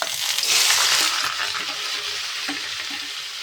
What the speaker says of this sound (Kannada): ಕರಿಬೇವು, ಹಸಿಮೆಣಸಿನ್ಕಾಯಿ, ಟಮಾಟೊ, ಹುಳಿಗಡ್ಡೆ, ಇದು ಈರುಳ್ಳಿ ಎಲ್ಲ ಒಂದೇ ಸತಿ ಹಾಕಿದ್ದೀನಿ